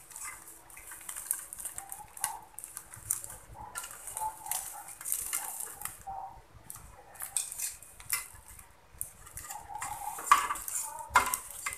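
Metal cutlery scrapes and clinks against dishes and a pan while grilled rice liwet with salted squid is lifted onto a plate, a close, irregular series of sharp clatters and scrapes with quiet gaps between.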